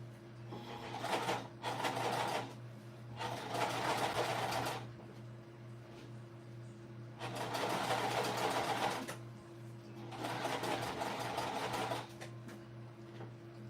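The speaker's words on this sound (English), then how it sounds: "And now I'm just doing the top stitching for the top accent." A sewing machine top stitches a shoulder bag through a Teflon foot in hot, sticky conditions, running in several sustained bursts of a few seconds each with short pauses between, close and steady over a low constant hum.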